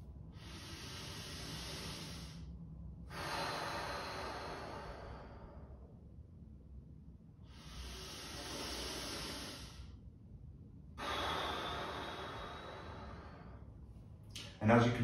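Slow deep breathing exercise for core stability, long airy inhales and exhales in a repeating cycle of hissing breaths separated by quiet pauses, close and fairly soft, with a brief louder noise at the end.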